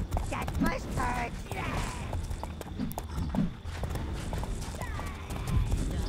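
Rhythmic clip-clop of horse hooves in the video game Overlord runs under busy game sound effects, with a few scattered clanks and a whinny-like call.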